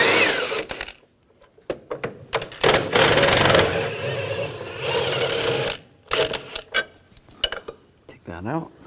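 A 15mm socket ratchet works bolts free on the starter bar of a 2007-2013 BMW X5 3.0L inline-six, with loud bursts of rapid clicking and metallic clanks separated by short pauses.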